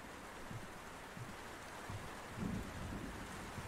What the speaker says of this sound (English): This rain is really loud.